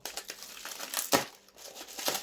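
Adhesive tape being pulled and torn off packaging while a tea set is unpacked, a series of faint crinkling rips and crackles with one sharper tear near the middle, no voices.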